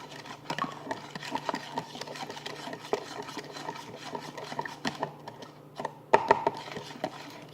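Borax being stirred into a cup of water, a quiet rhythmic scraping and clinking of a utensil against the cup, repeated steadily with a brief sharper knock near the end.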